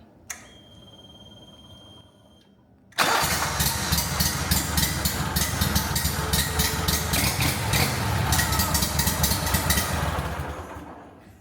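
A fishing boat's outboard-style motor with a motorbike-like throttle: quiet ticking first, then at about three seconds it cranks and catches, settling into a loud, steady, rumbling idle that continues close up without talk.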